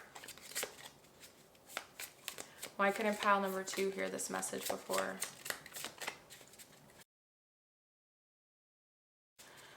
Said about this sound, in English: I'm shuffling this deck